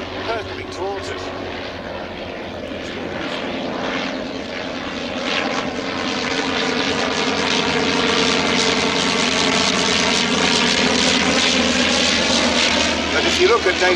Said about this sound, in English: Look at the almost geostationary Bristol Scout compared with the Bristol 1N1C downwind, hurtling towards us.